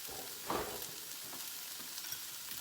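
Scrambled eggs fry in a pan with a soft, steady sizzle close by, one brief louder stir or scrape near the start, and no voices.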